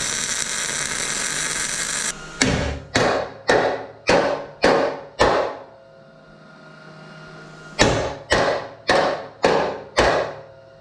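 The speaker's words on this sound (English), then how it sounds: "I'll give that a few taps with a hammer and get it into place" About ten sharp metallic hammer taps on a steel truck frame under repair, a quick run of five, a pause, then another run, ringing briefly after each strike; a steady hiss precedes them.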